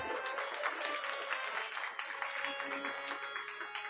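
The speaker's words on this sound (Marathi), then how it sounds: "तुमचं स्वागत एकदा तुम्हीच टाळ्या वाजून करा" An audience at a Shrimad Bhagavat Katha religious discourse in Alandi claps steadily in a dense, continuous wash, with voices audible underneath.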